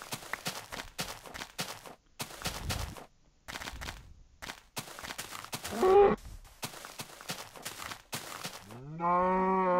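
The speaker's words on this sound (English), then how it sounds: "Yay, more cows." Cows in a Minecraft-style let's-play game mooing, a couple of low drawn-out moos near the middle and end, mixed with blocky footstep and movement sounds, no speech.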